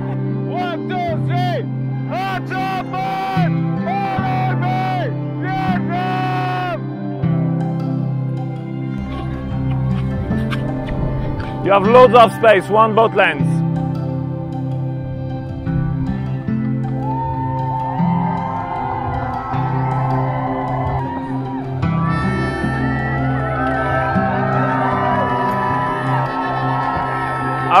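A sailing race crew on a Southern Ocean leg lets out a brief, loud burst of cheering and whooping midway, amid steady talk and boat noise.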